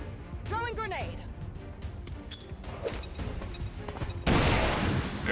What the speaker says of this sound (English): There's your explosions.